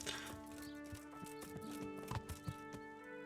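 A horse's hooves clip-clop in a steady walking rhythm in Kingdom Come: Deliverance, moderately close over a quiet background of game ambience.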